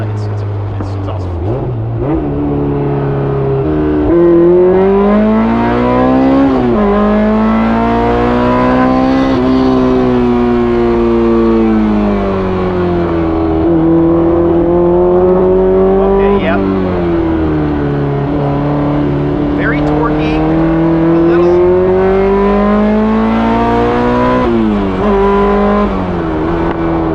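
A Honda S2000 fitted with a built K24 engine pulls hard through repeated rising gear runs from inside the car, its loud engine note climbing, dropping at shifts, then climbing again. Someone talks over the engine.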